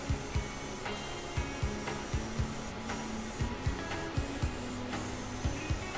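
Steady hissing spray of an airbrush painting a model cabover truck frame, with a rhythmic mechanical ticking pulse underneath, close and continuous, no voices.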